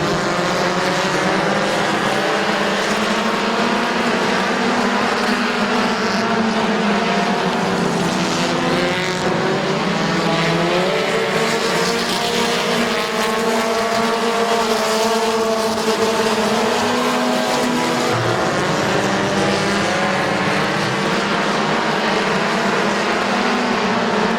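Race cars lap Midvale Speedway in a loud, continuous roar, engines rising and falling in pitch as they pass close by, with several cars overlapping in a dense wall of engine noise.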